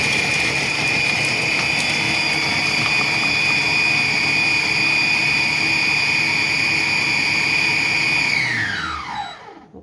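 A food processor chopping an onion at speed 6 for about ten seconds, a steady loud whirring motor hum with a high whine that runs evenly, then winds down and stops near the end.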